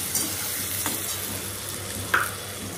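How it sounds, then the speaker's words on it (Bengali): Potatoes and onions sizzle steadily in a frying pan, a continuous close hiss with a couple of brief stirring scrapes and no talk. "আলু আর পেঁয়াজটা ভাজতে চাপিয়েছি, একসাথেই চাপিয়ে দিয়েছি"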